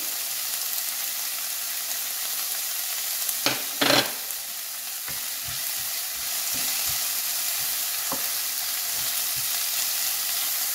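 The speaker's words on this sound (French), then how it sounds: "on fait chauffer de l'huile dans la poêle. On va faire revenir nos oignons." Onions frying in hot oil in a pan give a steady broadband sizzle, with a few brief stirring scrapes and clinks early on and soft knocks later; no voices.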